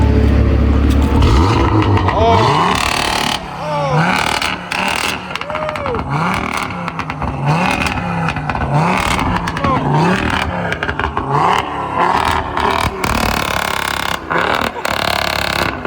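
A stage 2 Audi A3 engine revs hard in neutral on a dyno and bounces off its hard rev limiter in a rapid stuttering burble, loud and close, with voices talking over it.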